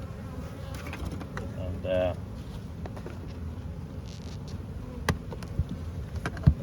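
Honeybees hum steadily inside a packed hive during an inspection of eclipse splits, a dense close drone with a few sharp knocks and clicks near the end and a brief word spoken.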